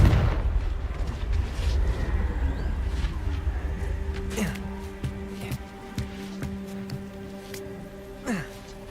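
Confringo blasting-spell explosions in the video game Hogwarts Legacy: a heavy rumbling boom up front, then a series of sharp crackling impacts and smaller blasts spaced a second or so apart, with tonal game sounds underneath.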